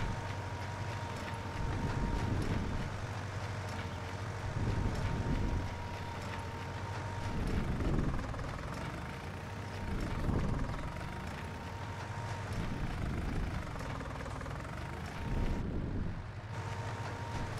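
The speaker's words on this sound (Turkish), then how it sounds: "Traktörümüz de bayağı güçlü arkadaşlar." Fiat tractor engine in Farming Simulator 19 runs steadily throughout, a low droning hum with a constant tone, swelling in regular surges every couple of seconds as it works, briefly dropping near the end.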